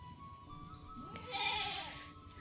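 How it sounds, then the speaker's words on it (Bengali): A goat on a rural homestead gives a single wavering bleat in the middle, fairly faint against a quiet farmyard background with no talk. "ছাগল গরুগুলোও আছে।"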